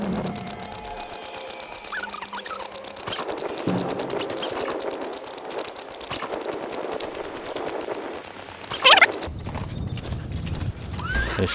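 Hooves clip-clop from a horse ridden in the video game Metal Gear Solid V: The Phantom Pain. The rhythmic trotting runs under game ambience, with a brief whinny-like burst near the end.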